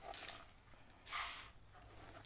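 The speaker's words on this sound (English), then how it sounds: "I'm going to spray it just a tad" A paint spray gun releases a short, sharp hiss of paint onto a hat, one brief burst lasting about half a second amid faint background sounds.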